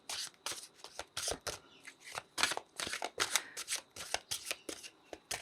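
Tarot cards being shuffled by hand give repeated crisp riffling bursts in an uneven rhythm, close and clear with no talk.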